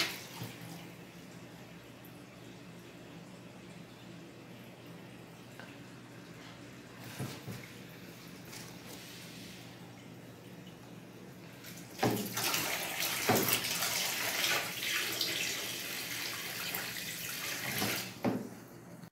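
Water gushes steadily from a tap into a basin for rinsing laundry, quieter at first and then louder and splashier in the second half, with a few clunks.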